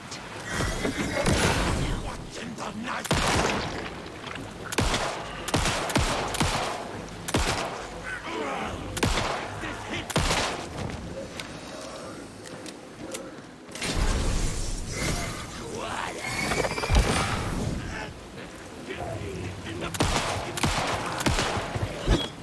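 Repeated gunshots from shooting enemies in Alan Wake 2, with a steady run of sharp cracks and bursts spread across a long, busy stretch of game noise and occasional voice.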